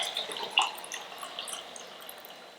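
Apple cider sangria poured over ice into glasses, a short close splash and trickle with faint clinks, fading steadily over a couple of seconds.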